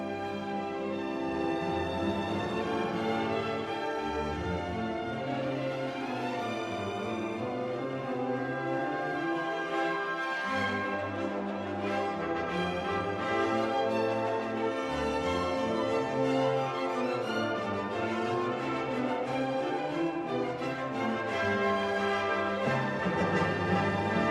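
A full orchestra plays a rich, busy passage from the overture to Hansel and Gretel, layered lines weaving under a broad melody, sustained and loud throughout with shifting low bass notes.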